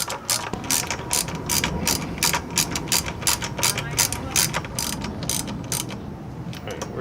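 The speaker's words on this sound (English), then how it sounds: "We're going to tighten the caliper down a little more." Rapid ratchet clicking in quick bursts while tightening the brake caliper bolts on a Honda CBR1000RR during a brake pad and stainless steel brake line change, close and steady for the whole stretch.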